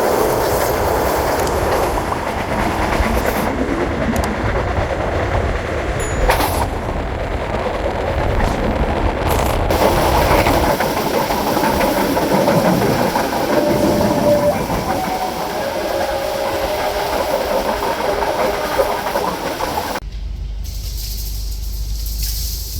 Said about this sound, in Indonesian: kereta api Kuto Jaya Selatan berhenti luar biasa di stasiun Raja Pola